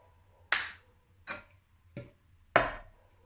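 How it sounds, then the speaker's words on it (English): Cup song rhythm on a table: four sharp, separate hits, a clap, a cup grabbed, the cup smashed down and its edge tapped, spaced about half a second to a second apart, close and fairly quiet with no voices. "Clap, grab, smash, edge. Clap, grab, smash, edge."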